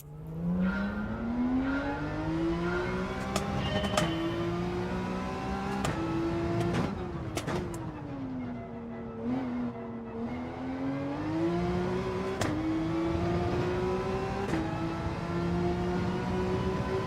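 Gran Turismo 7 race car engine under throttle: a steady, near engine drone that rises and falls in pitch as revs climb through gears, with brief sharp clicks of shifts scattered throughout, alone without talk.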